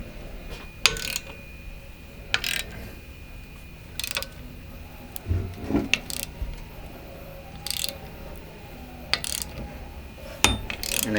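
A ratchet wrench loosens the top nut on a MacPherson strut mount during a camber adjustment, giving several short bursts of rapid clicking separated by pauses, close and fairly quiet, with faint mechanical rattles between.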